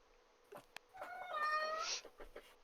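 A cat gives a single drawn-out, quiet meow with a few soft rustles before and after.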